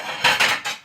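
A spoon scrapes and clatters against a pan while spicy food is mixed, three quick close metallic strokes in a row with no talking.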